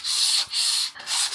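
Sandpaper rubbed by hand over a piece of wood, three long back-and-forth strokes of dry, hissing abrasion, close and loud, with brief pauses between passes.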